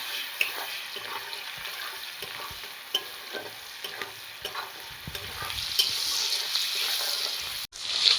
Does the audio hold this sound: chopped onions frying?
yes